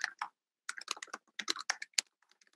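Someone types on a computer keyboard in short bursts of crisp, close key clicks, a quick pair of taps, a pause, then a rapid run of keystrokes trailing off into a few scattered taps.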